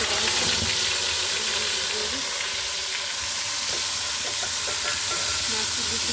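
Onion gravy tipped into a hot pan for a chole katori recipe sizzles loudly and steadily, a dense hiss with scattered crackles and a few stirring scrapes throughout.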